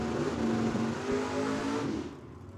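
A Plymouth and the Hernandez Mustang launching side by side at a drag strip, a loud engine roar with a sustained droning tone that holds for about two seconds and then drops away fast as the cars pull off.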